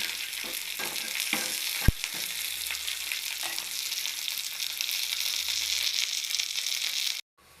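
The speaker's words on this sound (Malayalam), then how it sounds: "പിന്നെ 4 വറ്റൽമുളക് ചെറുതായിട്ട് കഷ്ണിച്ചെടുത്ത്, പിന്നെ കറിവേപ്പില ഇട്ട് നന്നായിട്ട് മൂപ്പിക്കണം" Dried red chillies cut into small pieces and curry leaves fry in hot oil with chopped shallots, giving a continuous close sizzle, with a few scraping stirs near the start and one sharp knock before it cuts off.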